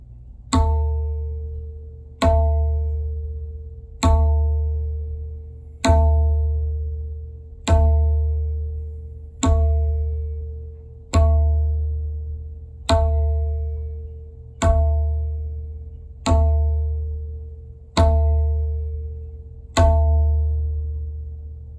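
Tabla Dhin strokes, the bass Ge and treble Tin drums struck together, sounding twelve times at an even, slow pace, each a sharp ringing hit with a deep resonant boom that decays before the next, played solo with no talking.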